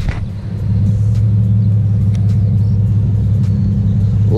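A Holden Commodore cruises down a road at around 50 km/h, heard from inside as a steady, loud low engine and road rumble after a brief quieter start.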